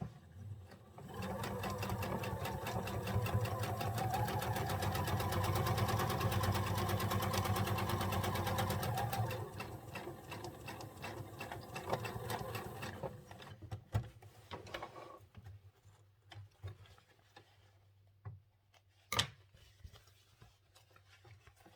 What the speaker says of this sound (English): I will be back stitching at the beginning and the end of my sew line